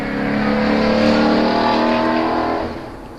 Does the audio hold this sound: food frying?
no